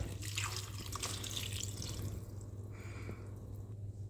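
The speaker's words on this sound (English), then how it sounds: "2 cups of beef broth going in." Beef broth poured into a crockpot while making Mississippi meatballs, a steady liquid trickle and dripping splash at close range, loudest in the first couple of seconds and then thinning out, with no talking.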